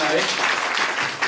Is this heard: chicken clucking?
no